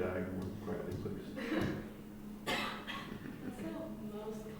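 Coughing in a classroom during an algebra lesson: a few short, muffled coughs over steady room noise, with a person speaking nearby.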